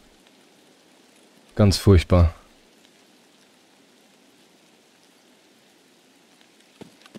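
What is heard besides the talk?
rain in video game Escape from Tarkov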